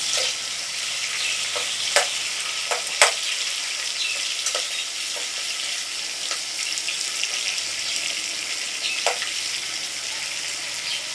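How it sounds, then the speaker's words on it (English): Onions frying in hot vegetable oil, a steady close sizzle broken by scattered sharp pops and crackles, with no voices. "So in my hot oil, I'm adding my onions."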